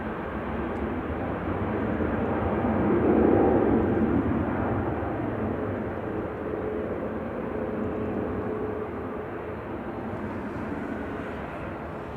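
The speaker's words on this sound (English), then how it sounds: "Qatar's 787-9 lined up and ready to go back to Doha now with flight 22." A Qatar Airways Boeing 787-9 departs from Manchester Airport bound for Doha, its jet engines a continuous, broad roar heard from a distance that swells briefly and then holds steady throughout.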